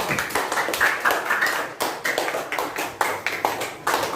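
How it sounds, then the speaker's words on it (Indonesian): A group claps hands together in a school setting, a quick uneven run of close, bright claps that goes on steadily for several seconds with no talk over it. "Tepuk tangan dulu dong."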